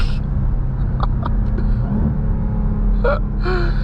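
A 2023 Dodge Durango SRT Hellcat, a 710 HP SUV in manual mode, accelerates with a steady heavy engine rumble from inside the cabin, and a voice gasps over it near the end.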